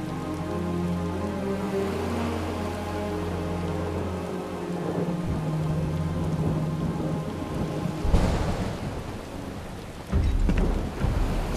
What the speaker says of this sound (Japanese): すごい雨だな。